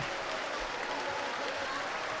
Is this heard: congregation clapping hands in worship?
yes